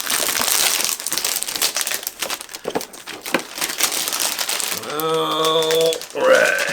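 Plastic packaging on an Alisa God Eater figure being ripped and crinkled open in loud, close, crackling bursts, then a short voiced sound near the end.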